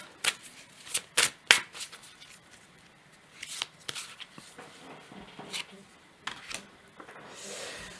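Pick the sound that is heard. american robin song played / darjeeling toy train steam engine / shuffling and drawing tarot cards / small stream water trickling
shuffling and drawing tarot cards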